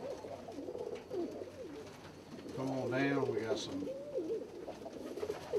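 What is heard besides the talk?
pigeons cooing in a fancy pigeon loft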